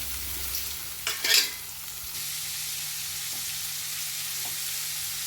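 Chopped tomato and green chillies are added to a pan and stirred, with a brief burst of scraping and clatter followed by a low, steady sizzle in the background.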